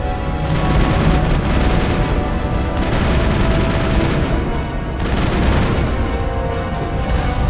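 Continuous heavy gunfire in the video game Mass Effect rattles and booms in dense overlapping volleys, loud and sustained with no pauses.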